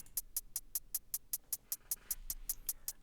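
Closed hi-hat sample playing in a steady, even pattern of about fifteen short, crisp ticks over three seconds, quiet and dry, with nothing else beneath it.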